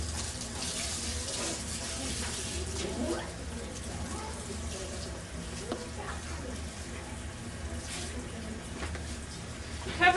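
Tap water runs steadily through a salon shampoo basin as hair is rinsed, a continuous hiss and splash that stays close and moderately loud for the whole stretch, with faint voices underneath.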